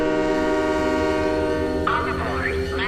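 In Halo 3: ODST, a departing train sounds a loud, sustained multi-tone horn over the rumble of the rail cars, and a rising whistle-like tone joins toward the end while a voice speaks faintly underneath.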